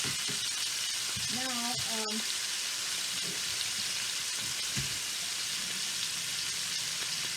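Chicken browning in a hot frying pan gives a steady, bright sizzle throughout, with a brief spoken word and a few stirring scrapes and taps early on.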